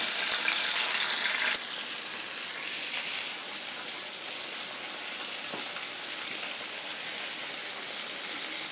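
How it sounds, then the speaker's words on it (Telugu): Bitter gourd pieces fry in hot oil in a pan with a steady, loud, close sizzle that runs unbroken, with a brief scrape now and then. "ఈ విధంగా ఫ్రై చేసుకుంటే సరిపోతుంది."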